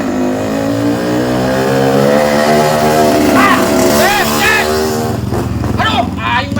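A motorcycle engine runs loud and close throughout, its steady harmonic drone shifting in pitch as if revving, with voices talking over it partway through.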